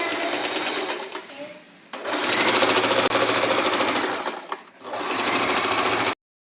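Sewing machine stitching blouse fabric in fast, steady runs, pausing briefly between passes, close and loud.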